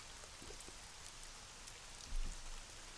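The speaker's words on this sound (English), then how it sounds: "the rain's sure not showing any signs of letting up" Steady rain from a visual novel game, a dense even hiss of falling drops with a brief heavier patter near the end, alone with no voices.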